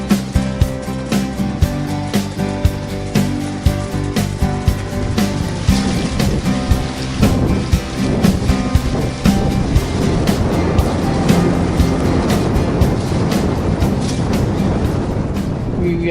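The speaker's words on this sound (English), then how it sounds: "We motor across the lake to the jetty at Toronto." Boat motoring across Lake Macquarie toward a jetty, a continuous engine drone with water rushing and slapping against the hull, plus intermittent sharp knocks, loud and close throughout.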